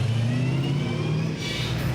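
NZV8 V8 race car at Ruapuna, with taped-up rear damage, running its engine loudly and steadily as it is pushed and driven off, a continuous mid-pitched drone with slight pitch shifts.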